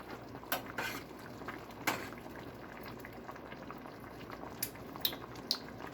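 Sauce with chili flakes simmering in a pot as a spoon stirs it, soft bubbling and liquid sloshing with a few light clinks against the pot, quiet and close with no voices.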